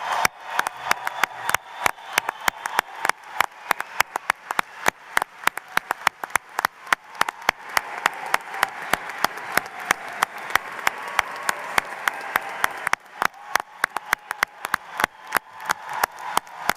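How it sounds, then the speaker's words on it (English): Loud, sustained applause from a commencement crowd honoring a graduating class, with dense clapping and sharp individual claps cutting through the roar throughout. "let's give the entire class of 2023 a round of applause"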